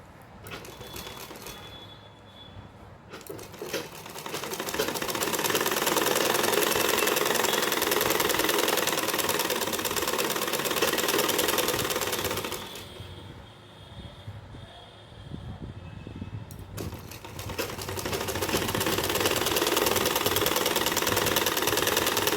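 A sewing machine runs steadily while stitching a kurta, a loud continuous mechanical whir that pauses briefly near the start and again midway before resuming, with no talk over it.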